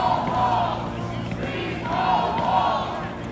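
A protest crowd at the Governor's Mansion barricade in St. Paul, Minnesota, a loud swelling roar of many voices chanting and shouting in rising and falling waves, close to the listener.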